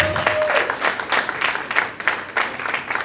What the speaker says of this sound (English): I'd like to ask that you join me in giving the students a big, rousing round of applause.